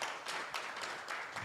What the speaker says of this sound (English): we need to clap for Marian for the presentation